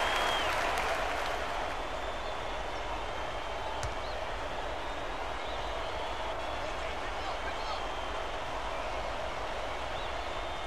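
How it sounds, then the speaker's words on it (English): College basketball crowd at a Southern Mississippi versus Ole Miss game roaring in a steady, dense wash of cheering that fills the arena, loud and sustained throughout with no break. "Listen to the crowd, Bird."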